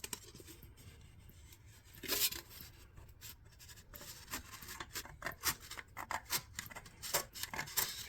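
Repeated crisp snipping and cutting sounds, close up, in irregular bursts with brief pauses between cuts, as snips cut a plaster moulding profile template; no talking.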